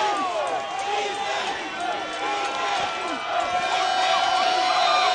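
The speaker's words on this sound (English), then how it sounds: "listen to this Grandview crowd on homecoming night erupt in support of their Bulldogs" Home fans at Grandview High School's homecoming football game against Belton erupt in loud sustained cheering, with whoops and shouting swelling through the stands, including a rising wail of voices, under a play-by-play announcer talking.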